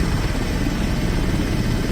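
EMS rescue helicopter landing on uneven ground near a construction site, its steady rotor and engine roar close and loud throughout, with no talk.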